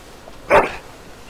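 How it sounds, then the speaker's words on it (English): A dog in the video game Dragon Age: Origins gives a single short, loud bark with a whimpering edge, heard close over a low, steady game background with no speech. "Bloody dog."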